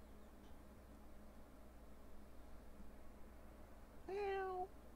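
A single Minecraft cat meow sounds near the end, short and falling in pitch, over a faint steady background hiss.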